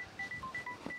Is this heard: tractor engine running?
no